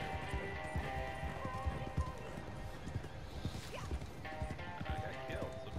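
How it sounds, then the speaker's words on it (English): Horses clatter with rapid galloping hoofbeats in the Red Dead Online video game, a busy clip-clop rhythm close by, with occasional neighs and a voice talking over the action. "Stupid horses."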